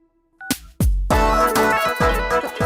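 A phone rings with a loud, repeating electronic ringtone melody that starts abruptly after a brief quiet moment and continues steadily to the end, close and alone.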